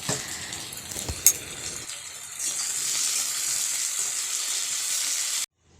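Soybean chunks and potatoes sizzle and fry in a pan, a steady hissing crackle with a couple of sharp stirring knocks early on, the sizzle swelling louder midway before cutting off abruptly at the end.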